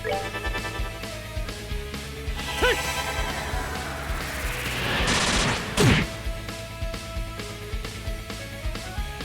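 The Airstrike spell from the video game Trails in the Sky SC lands as a rising whoosh followed by a loud burst of rapid, crackling blasts, all layered over continuous game music.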